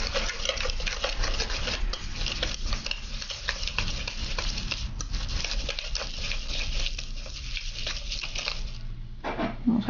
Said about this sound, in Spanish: Voy a agregar este poquito mientras tanto y seguimos mezclando.